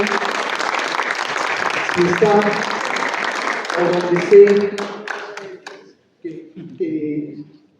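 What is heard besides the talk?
audience applause for Hugo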